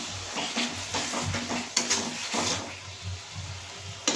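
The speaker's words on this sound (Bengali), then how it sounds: "এবার আমি মশলাটা কষিয়ে নিই।" Spice paste and sugar for a tilapia fish jhal fry in oil while being stirred, with rhythmic scraping strokes over a steady close sizzle.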